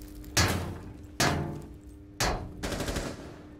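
Gunfire in Rainbow Six Siege: three sharp loud shot bursts about a second apart, each trailing off in echo, with a final rattling burst at the end.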